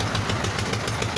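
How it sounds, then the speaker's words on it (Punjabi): Tractor engines chug and knock steadily during a farmers' protest tractor march in Punjab heading toward a village, a continuous close mechanical rumble with rhythmic pulsing and no talk. "ਦੇਖ ਰਹੇ ਹੋ ਟਰੈਕਟਰ ਮਾਰਚ"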